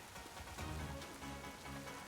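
Steady rainfall in the video game Pokemon Violet, a dense, even patter of drops holding at a constant level throughout with no talk over it.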